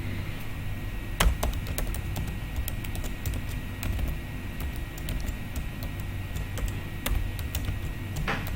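Fast, steady clatter of keys on a computer keyboard as an SQL query is typed, close and continuous, with a few louder presses standing out and no voices.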